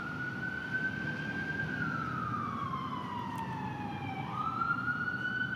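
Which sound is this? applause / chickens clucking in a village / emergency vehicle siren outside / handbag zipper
emergency vehicle siren outside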